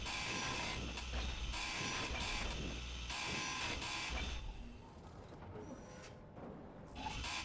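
A tool grinder in Space Engineers grinds down a block in a steady, loud mechanical whir with rattling, ratchet-like pulses that ease off partway through, then return briefly at the end.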